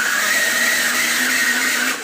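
A blender motor whirs steadily at close range, a loud, even high-pitched drone with a constant tone that holds for two seconds and then eases slightly at the end.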